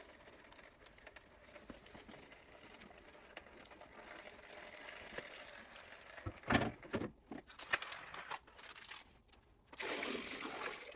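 Water drains out of a Maytag washing machine during drain pump replacement, a low continuous trickle and patter with intermittent splashy gushes and a few clanks near the end, close by, without speech.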